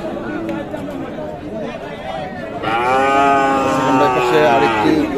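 Sahiwal bull calves at the Ambari livestock market in Dinajpur, with a loud, drawn-out close moo rising over a busy background of crowd chatter and voices.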